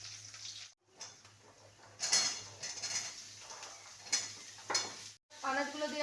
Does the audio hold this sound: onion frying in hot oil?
yes